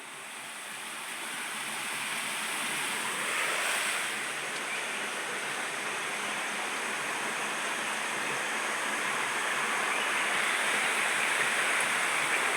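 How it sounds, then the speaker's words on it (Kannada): A small waterfall spills flowing water near a courtyard, producing a steady, even rush of broadband noise that grows slightly louder over time. No one speaks. "ಇದು ಇಲ್ಲೊಂದು ಫಾಲ್ಸ್ ಇದ್ದು ನೋಡಿ. ಇದು ಕೊಡ್ಲು ಅತ್ತೆ ಅಂಗಳ ಬದಿಗೆಲ್ಲವ. ನೋಡಿ ಎಷ್ಟು ಚಂದ ನೀರು ಹರಿತಾ ಇತ್ತು."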